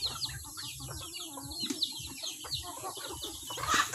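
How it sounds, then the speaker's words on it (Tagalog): Native chickens in a farm enclosure, with soft clucks and calls from several birds scattered over steady outdoor background noise, moderately close and fairly quiet. "Ayan yung mga manok. Ang dami."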